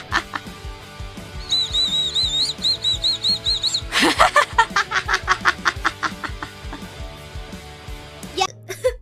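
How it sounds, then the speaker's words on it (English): Whistle candy blown in short chirpy toots that rise and fall, first as a run of quick tweets, then as a louder series of repeated whistles with some background noise. "It's like the whistle candy."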